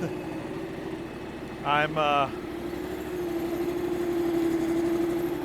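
A tractor engine idling with a steady low rumble that grows slightly louder near the end, while a person briefly speaks over it.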